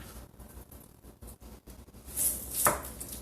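A knife cuts a stick of butter into tablespoon pats on a board, giving a soft series of close taps and presses, then a brighter knock of the blade near the end.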